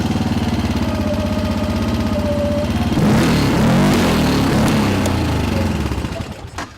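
A Linhai 700 Trailboss two-seat ATV engine sits at a steady idle, then cranks with a burst of revving and settles into a loud, rough running note close by.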